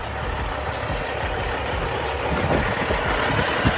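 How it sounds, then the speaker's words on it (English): A truck engine idles steadily with a low diesel rumble, close and continuous, with no talking. "shut my uncle's truck off back here"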